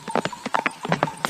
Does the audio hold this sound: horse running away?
yes